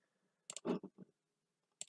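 Computer mouse clicks while drawing a triangle in Word, a quiet room with a quick double click, a short cluster of clicks, then another double click near the end, close and crisp.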